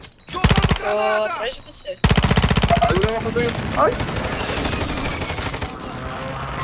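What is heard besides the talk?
gunfire in Call of Duty Warzone video game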